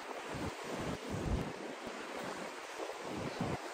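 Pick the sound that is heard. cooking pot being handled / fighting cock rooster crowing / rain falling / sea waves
sea waves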